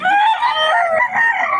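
A Sweater-bloodline gamefowl rooster gives one full, loud crow lasting over a second, close by with a strained, harmonic tone and no voices over it.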